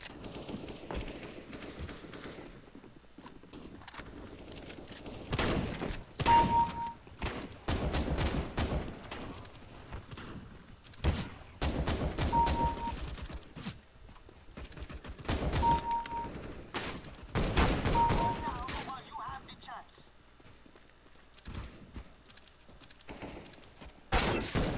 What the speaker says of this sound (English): You say shotgun at point blank?